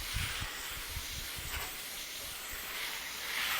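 A water hose with a spray nozzle hisses steadily while cleaning an AC unit outdoors, a continuous even spray with faint low thumps underneath.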